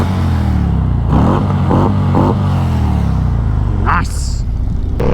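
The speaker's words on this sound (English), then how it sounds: "Milwaukee-Eight 114 engine with the Stage 3 Screamin Eagle kit." A 2024 Harley-Davidson Road King Special with a Milwaukee-Eight 114 engine and Stage 3 Screamin' Eagle kit revs up in a few sharp bursts, loud and close, while someone talks over the steady idle rumble.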